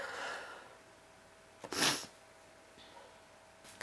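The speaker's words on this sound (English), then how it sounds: "I have to sneeze." A single sharp sneeze bursts out near the mic, with a quick breath before it and a faint sniff afterward, over quiet room tone.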